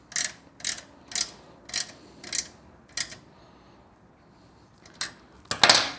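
Tightening a set screw with a 3mm Allen key while fitting slash-cut exhaust tips on a Triumph Speed Twin 1200 RS: six crisp, evenly spaced metallic clicks, a quiet pause, then a couple of final louder clicks close by.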